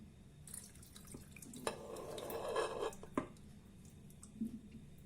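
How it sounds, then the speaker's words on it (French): A heavy plate clinks and scrapes as it is set over cabbage in a cooking pot, with a few sharp ceramic knocks amid quiet kitchen rustling and faint liquid sounds. "Je vais laisser l'assiette par-dessus."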